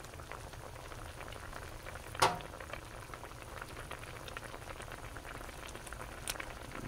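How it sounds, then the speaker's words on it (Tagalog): Quiet, steady bubbling of squid adobo with vinegar simmering in a pot on the stove, with one brief clink partway through. "Ayan na muna natin kumulo yan guys"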